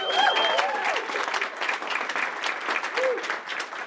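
An audience at a community fireside chat applauds steadily, a dense wash of clapping filling the whole stretch, with a voice briefly audible over it.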